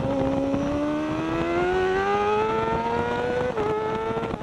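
600cc superbike-class racing motorcycles screaming down the back straight at Snetterton during a race, engines loud and close, pitch climbing steadily as they accelerate past, with a brief dip near the end.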